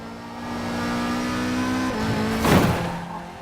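A car engine in the Forza Horizon 4 racing game hums steadily on a road, then the pitch drops and a brief louder rush with a tire scrub breaks in near the end.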